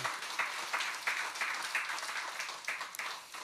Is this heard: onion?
no